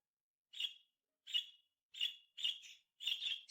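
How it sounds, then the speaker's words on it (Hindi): A small golden bird chirps in five short, bright, evenly spaced bursts, the last two doubled, each clear and close against silence. "ये छोटी सी चिड़िया बहुत प्यारी है।"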